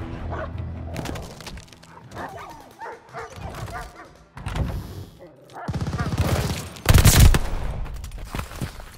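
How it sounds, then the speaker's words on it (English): Attack dogs in Call of Duty Vanguard multiplayer bark repeatedly amid bursts of machine-gun fire and gunshots, the barks loud and close at times, with brief voice chatter mixed in. "Friendly attack dogs on the way for backup."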